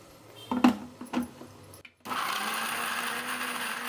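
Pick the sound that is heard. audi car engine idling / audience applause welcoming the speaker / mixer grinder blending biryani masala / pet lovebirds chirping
mixer grinder blending biryani masala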